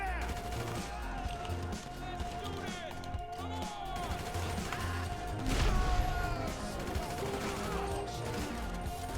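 Rapid gunfire in the video game GTA 5, with bursts of shots running almost continuously over dense game sound and a steady background tone, briefly louder in the middle.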